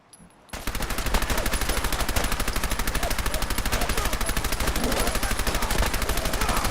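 Rapid, steady automatic gunfire in Fallout's Far Harbor, loud and continuous for several seconds after a brief quiet start.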